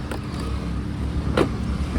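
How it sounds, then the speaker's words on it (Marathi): A car engine idles steadily close by after being started, a continuous low hum with a brief brighter burst partway through and no talk. "गाडी करतो चालू आहे."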